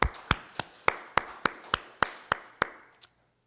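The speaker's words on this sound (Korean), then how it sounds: "우리 하나님께 감사의 박수하겠습니다" A church congregation at a Korean Thanksgiving Sunday service claps in unison, about ten sharp, evenly spaced claps that stop abruptly.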